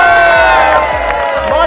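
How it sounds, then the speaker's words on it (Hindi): A loud crowd of children and adults cheering and whooping for Baba, with shouting voices throughout and light clapping mixed in. "भाई तालियां हो जाए एक बार बाबा के लिए।"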